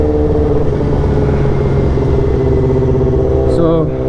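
A motorcycle ridden fast on a chilly day, its engine droning loud and close with steady tonal harmonics and a slight rise in revs, wind rush throughout, and a brief chirp near the end.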